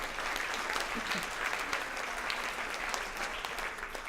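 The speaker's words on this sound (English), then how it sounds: "So please, another round of applause for the incredible awardees tonight." Sustained applause from a large crowd at an awards dinner, steady dense clapping throughout with no pauses.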